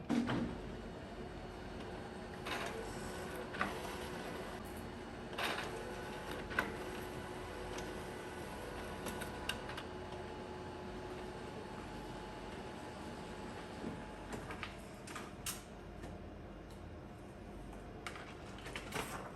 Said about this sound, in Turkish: Yazıcımız ısınıyor şu anda.